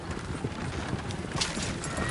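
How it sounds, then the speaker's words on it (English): Horses in Red Dead Redemption 2 gallop with busy, overlapping hoofbeats and neigh amid dense game noise, loud and continuous throughout. "Oh, shit, the horses!"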